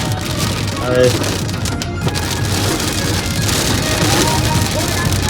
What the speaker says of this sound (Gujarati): જો વરસાદ બધો ચાલુ થઈ ગયો છે હવે